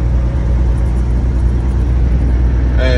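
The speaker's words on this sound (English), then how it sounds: "As you can see, I'm driving." Inside a moving car, a loud steady rumble of engine and road noise fills the cabin without a break, with no voices, and a faint brief tone rises near the end.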